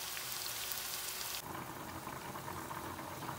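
Onions frying in about a cup of oil in a pot for crisp fried onions for Bangladeshi beef rezala, a dense steady hiss and crackle that carries on throughout and shifts tone partway as the onions are moved.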